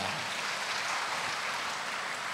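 A church congregation applauds during a Sunday Mass homily, a dense steady wash of many hands clapping together, moderately loud and continuous with no talk over it.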